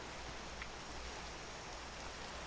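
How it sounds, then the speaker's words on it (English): Steady Minecraft rain hisses evenly throughout, a soft continuous wash of falling drops with no pauses and no voices over it. "Okay, it's raining."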